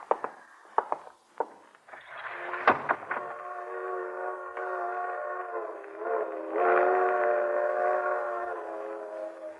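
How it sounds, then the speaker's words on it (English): A freight train passes with clanking knocks, then a long multi-tone horn blares steadily, loud and sustained, swelling near the end. "Freight train."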